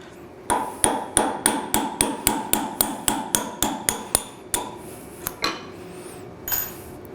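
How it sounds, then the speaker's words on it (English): Sharp metallic hammer blows punching a roll pin out of a 990-FX pre-drill gearbox held in a vise, about fifteen evenly spaced ringing strikes, then a few slower, scattered taps as the pin frees. "What we're going to do is we're going to punch out the roll pin."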